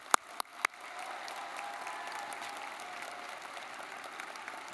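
Graduates receive applause from a large crowd at a May commencement ceremony. After a few sharp claps up front, a steady, moderately distant wash of clapping fills the hall.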